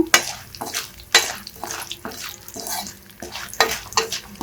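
Mustard seeds, cumin, chana dal, urad dal and peanuts fry in oil for a tempering over medium flame, with a close steady sizzle broken by repeated bursts of spoon stirring and scraping against the pan.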